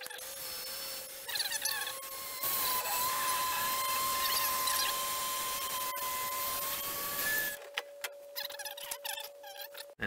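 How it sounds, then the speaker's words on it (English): A rear window motor on a 1973–91 K5 Blazer runs with a steady whining hum that holds for several seconds and then cuts off. No one speaks. "get the motor hooked up, and see if she cranks"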